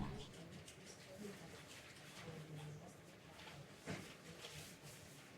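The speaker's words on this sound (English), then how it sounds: "Heard the soft cooing of a puffy bird with a bright plume?" Soft, low cooing of a puffy bird with a bright plume in the video game Death and Taxes, faint and repeated beneath a steady ambient game hum.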